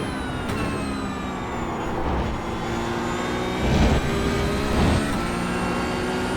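A Porsche GT3 Cup 992.1 race car engine in the iRacing simulator at the Algarve circuit, held flat out as a loud, steady, high-revving drone with a slight pitch climb and no talk over it.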